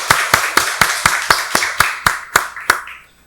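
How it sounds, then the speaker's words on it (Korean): A church congregation at a Korean Sunday worship service claps together in about a dozen sharp, evenly spaced claps. The claps are loud and close, then stop abruptly, leaving a brief fade. "박수로 하나님께 영광 돌리겠습니다."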